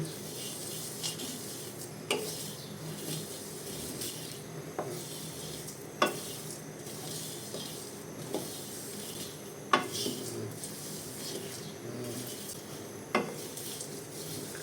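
A sweet fishing bait mixture with muski seeds fries gently in a pan, a soft continuous sizzle broken by occasional sharp clinks and scrapes of a utensil against the metal, quiet and close.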